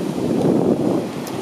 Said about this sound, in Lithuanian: Kokia galinga šiandien jūra.